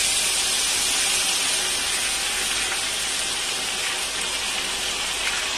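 Ghevar batter hits hot refined oil or desi ghee in a pan, giving a loud, steady, broad sizzling hiss that runs unbroken for the whole stretch with no voices.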